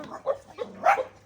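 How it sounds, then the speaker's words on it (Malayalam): A dog gives a few short, quiet barks in a Mayan village in Guatemala, two or three brief yips spread over about a second with little else around. "ഇവിടെ കുറേ ഡോഗ്സ് ഉണ്ട്,"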